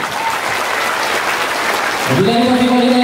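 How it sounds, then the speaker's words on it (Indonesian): Loud, sustained applause from an audience honouring madrasah students at an Al Washliyah Tembung donation event for Palestine, dense clapping filling most of the moment before a voice or tone rises at the end. "Tepuk tangan buat anak madrasah."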